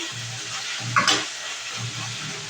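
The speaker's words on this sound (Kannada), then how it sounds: "ಎಲ್ಲ ಚೆನ್ನಾಗಿ ಆಯಿಲಲ್ಲಿ ಫ್ರೈ ಆಗಿದೆ" Ridge gourd pieces fry in hot oil for chutney, giving a soft, steady sizzle with a brief stirring scrape in the middle, close and fairly quiet.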